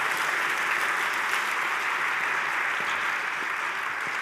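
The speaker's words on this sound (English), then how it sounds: "So, Sarah, give her an applause." Even, sustained applause from a lecture audience at a public university lecture, a broad hall-filling wash of clapping at moderate volume that holds steady from start to finish.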